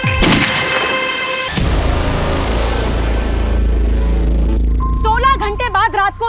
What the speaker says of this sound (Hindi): 16 घंटे बाद रात को 2 बजे फिर गोली की आवाज आई है।